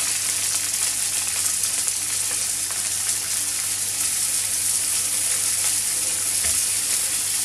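Steady sizzling of beef frying in oil in a pan, a constant crackling hiss that holds at the same level throughout, with no talking.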